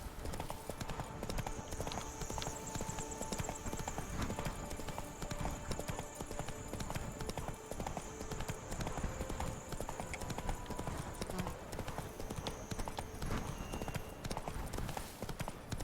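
Roach the horse galloping in The Witcher 3 video game, a fast steady clip-clop of hooves running the whole time at moderate volume, with a faint tonal game ambience above.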